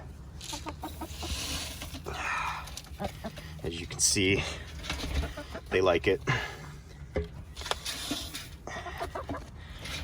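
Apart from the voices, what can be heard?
chickens clucking at feeder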